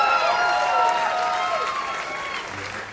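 A live concert crowd applauds and cheers steadily, with whistles and shouts cutting through the dense, sustained clapping.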